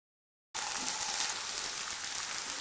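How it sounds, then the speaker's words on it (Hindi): Finely chopped onion browning in oil over medium heat for beef kaleji masala, heard as a steady, even hiss of sizzling that starts abruptly after a brief silence and stays constant. "मैं प्याज को इसी तरीके से ब्राउन कर रही हूँ।"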